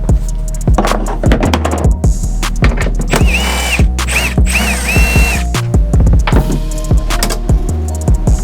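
Repeated sharp ratchet clicks and clanks as bolts come out of the tailgate on a 2015–2019 Chevrolet Silverado, close and loud in quick irregular bursts with metallic tool knocks between them.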